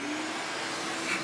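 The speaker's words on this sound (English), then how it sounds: "Let's go ahead and vacuum." A shop vacuum cleaner whirs loudly and steadily, close by, in a brief continuous burst with no talking, cleaning up after CNC carving.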